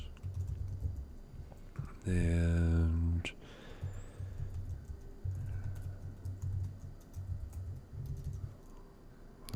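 Fingers tap on a small computer keyboard with light, quiet key clicks. A person talks over the clicks, and a short tonal sound breaks in partway through.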